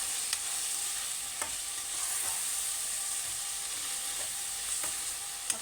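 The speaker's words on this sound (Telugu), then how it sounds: "అల్లం వెల్లుల్లి పేస్ట్ ఇలా వేసుకున్న తర్వాత ఇలా కలుపుకోండి" Ginger-garlic paste fries in a pan for a Telangana bitter gourd fry, giving a steady, bright sizzle. A few faint scrapes from stirring rise above it, with no voices.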